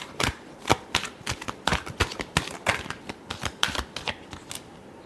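Tarot cards being shuffled up close, a rapid run of crisp riffling slaps and flutters in quick uneven bursts, with no voice over them.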